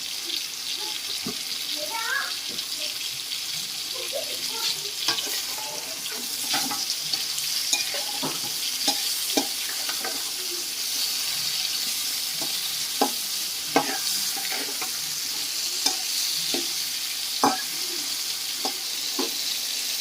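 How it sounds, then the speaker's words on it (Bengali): Ridge gourd pieces fry in oil with a little salt, sizzling steadily, with frequent small crackles and pops and occasional scraping stirs throughout. "সেগুলোকেও সামান্য লবণ দিয়ে ভেজে নিয়ে ফেরত আসছে"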